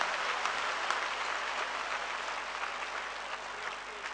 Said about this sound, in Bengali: প্লিজ একটা জোরে হাততালি দেন